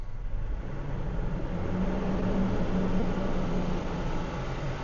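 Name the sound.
car engine revving to 2,500 RPM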